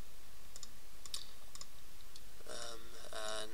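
A handful of sharp, isolated computer mouse clicks spaced out over a few seconds, close and fairly faint. A voice then speaks over a quiet room.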